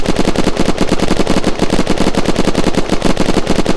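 An automatic weapon in the video game Unturned fires a long, unbroken burst of rapid shots at a glossy black metal base wall, loud and relentless at an even, fast rhythm throughout.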